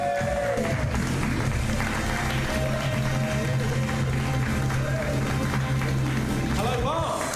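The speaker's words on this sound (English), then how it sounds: "So let's have a big round of applause for your first act of the night" A comedy-night audience claps and cheers to welcome comedian Tom Glover on stage, a dense, steady wash of applause blended with voices and background sound.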